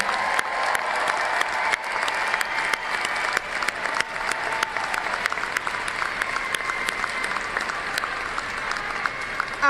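Graduates at a university fall commencement ceremony receive a sustained round of applause from a large indoor crowd, dense steady clapping lasting the full stretch with no talk over it.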